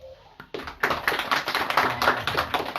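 An audience at a Krishna Janmashtami katha gives applause, starting with a few isolated taps before a burst of close, uneven clapping from a small group.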